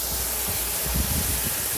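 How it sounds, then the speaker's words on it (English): Water spraying from a garden hose outdoors, a steady broad hiss that runs loud and unbroken for the whole short stretch. "We'll see if anybody wants to play in the water spray today."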